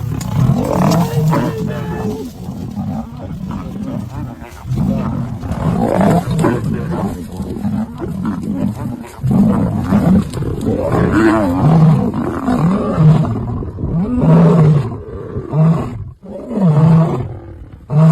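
Lions in the Sabi Sand reserve roar repeatedly in deep, loud, rhythmic bouts, the calls rising and falling close by with short pauses between series, and no talking.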